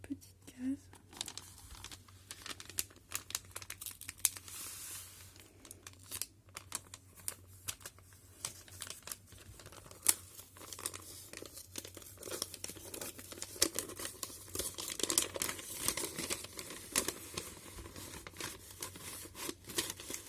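A paper advent calendar compartment opened close up: continuous crinkling and tearing of paper with many small crackles, under soft French speech.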